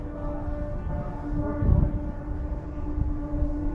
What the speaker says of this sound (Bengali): জয়চণ্ডী পাহাড়ের পেছন দিকটা ট্রেনের আওয়াজটা আসছে, সুন্দর, কত দূর থেকে ট্রেনের আওয়াজটা আসছে